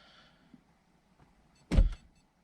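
A faint electric motor whirs briefly, followed by a louder burst of mechanical sound as a car's power window motor strains slowly on a weak battery.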